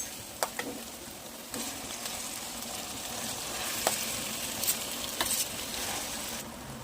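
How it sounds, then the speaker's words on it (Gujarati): Mashed potato frying with ginger-chili paste and asafoetida for mirchi vada, giving a steady, fairly loud sizzle with a few clacks of a spoon stirring the pan and no voices. "હવે બટેટાનો માવો ઉમેરી દઈએ"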